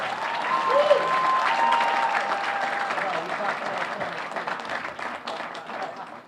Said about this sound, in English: Once again, big round of applause to our Revere Chamber of Commerce Board and Board of